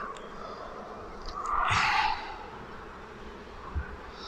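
Honey bees at a beehive give a brief, fairly close buzzing burst that rises and falls within a few seconds over a quiet outdoor background.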